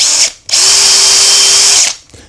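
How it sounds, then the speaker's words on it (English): A power drill with a lip and spur bit bores holes in the wood of a scroll saw mirror frame, whirring loudly up close in short bursts, with one long run of more than a second between brief pauses. "I just need to drill holes on these kind of captive areas."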